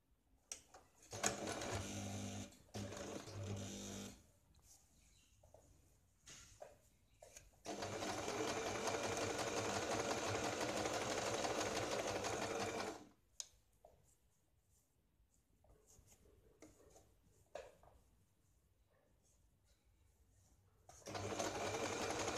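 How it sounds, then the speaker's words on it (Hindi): Double stitching along a 38-inch katori blouse on a sewing machine comes as several steady whirring runs of varying length, broken by short pauses with soft handling clicks and faint background noise. "यहाँ पे हमें इसको डबल सिलाई लगानी है"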